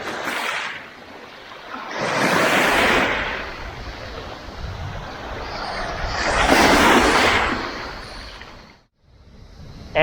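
Waves on Karame Beach, Ikaria Island, Greece, roll in and wash up in two slow, loud surges, with wind rushing across the microphone between them.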